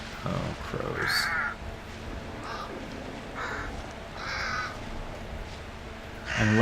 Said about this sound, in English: Oh, crows.